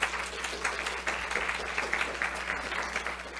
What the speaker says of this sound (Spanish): démosle un aplauso al doctor Rodrigo Peniche